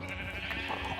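Sheep bleating in a farm-building video game, one nasal, wavering bleat held for about a second over a steady bed of game background sound.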